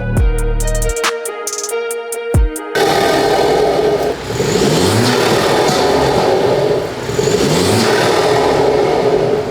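A BMW 330e F30 fitted with an ARMASPEED cold air intake revs loudly nearby, rising and falling in repeated bursts after a brief burst of electronic tones at the start.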